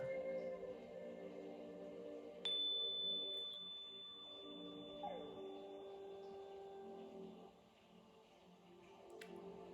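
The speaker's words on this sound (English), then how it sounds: "In a few moments, you will hear some tones." Steady sustained meditation tones form a layered drone of held pitches, joined by a sharp high tone that enters suddenly and lingers, plus a gliding tone partway through; soft and continuous with no talking.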